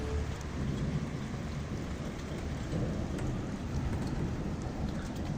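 A night thunderstorm over Amiens in early May: steady, dense rain hiss with low, continuous rumbling thunder, a constant wash of sound with no voices.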